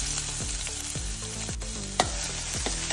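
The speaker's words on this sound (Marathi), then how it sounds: "कांदो मातसो बरो तळसून घेऊया" Finely chopped onion fries in hot oil in a pan, a steady close sizzle with a few sharp scrapes and taps of a spoon against the pan, no voices.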